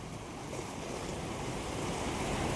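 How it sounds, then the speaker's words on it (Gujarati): Water churning in waves at Dantiwada dam, an unbroken hissing wash mixed with wind rumble on the microphone, holding steady and slowly building in loudness. "તો મિત્રો આ લહેર જો ડર લાગે એવી લહેર આવે,"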